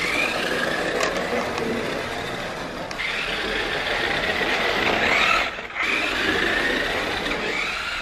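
A children's remote-controlled toy car in second gear, a close whining electric motor with rattling plastic gears, steady with a brief dip midway, no talking.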